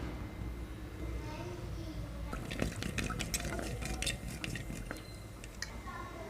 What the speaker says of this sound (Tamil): இப்போ கடுகு பொரிஞ்சிச்சு.